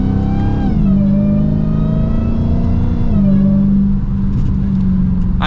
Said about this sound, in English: through the audio there, that supercharger whine.